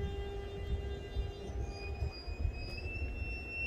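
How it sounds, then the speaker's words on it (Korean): A three-car tourist train arrives at a small rural riverside station in a snowy canyon village, a quiet distant rumble of wheels with faint high squeals drawing out over it. "이 기차를 오늘 두 번 지나가는 걸 잠깐 사이에 두 번이나 보네"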